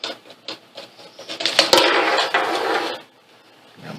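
A screwdriver loosens the power wire terminals on a gate control unit, giving a few small close clicks and taps followed by a short burst of scraping and rubbing that stops abruptly.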